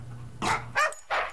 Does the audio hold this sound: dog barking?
yes